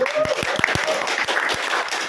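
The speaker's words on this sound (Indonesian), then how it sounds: "Tepuk tangan." A small group claps during a student association podcast session, a short patter of scattered claps with a few distinct hand strikes, fairly near and moderate in loudness.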